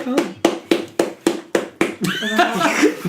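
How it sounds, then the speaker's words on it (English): A small group claps for Alex on a podcast, a series of sharp, evenly spaced handclaps, almost like a slow rhythmic clap, then a burst of laughter and chatter closes it out. "Round of applause for Alex."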